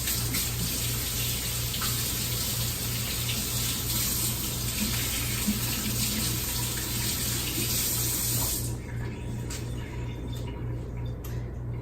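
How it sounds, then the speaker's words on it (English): Kitchen tap running steadily while hands are washed, a continuous close hiss of water that drops off sharply near the end as the flow is cut. "So I'm gonna wash my hands"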